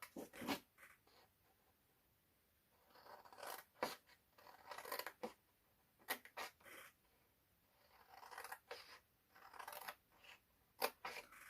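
Scissors snip repeatedly through paper while a gift box is cut out, the crisp cuts coming in irregular bursts with short pauses between, close and fairly quiet.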